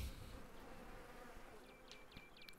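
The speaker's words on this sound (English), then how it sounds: "Hi, bees." Bees buzz in the Farmer's Dynasty farming video game, a faint steady insect drone over low background noise, with a few brief high chirps near the end.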